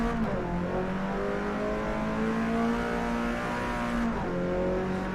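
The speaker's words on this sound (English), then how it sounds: "Fuckload of downshifts." A race car in Forza Motorsport holds a loud droning engine note, its pitch sagging as it shifts down, with one clear drop near the end; no one talks.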